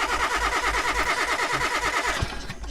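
A car engine in Car Mechanic Simulator 2018 cranks for a compression test, a loud, steady, rhythmic starter churn that goes on for about two seconds and then stops with a clunk.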